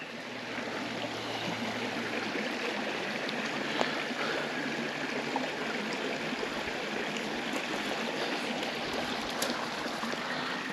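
Water running through a pump into a container and hose, a steady broadband rushing and trickling wash that continues evenly throughout with small splashes, no voices.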